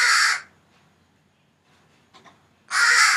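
A crow caws twice loudly up close, with a quiet pause and faint rustling between the calls.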